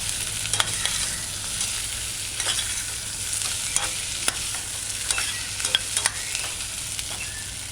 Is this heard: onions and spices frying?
yes